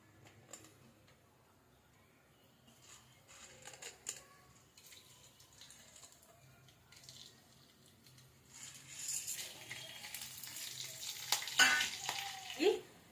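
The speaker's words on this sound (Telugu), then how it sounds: "చెక్కె, లవంగ, అలాగే మిరియాలు, కొంచెం యాలకులు, ఈ స్పైసెస్ అయితే మనం ఫస్ట్ ఆయిల్లో వేసేయాలి" Whole cinnamon, cloves, peppercorns and cardamom drop into hot oil for a Karnataka-style donne biryani. After a quiet start, a close, crackling sizzle builds and grows louder, with small ticks and pops.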